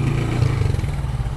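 Close motorcycle engine and exhaust, a rough, throbbing low rumble with a steady, pulsing beat, briefly and continuously heard with no talk.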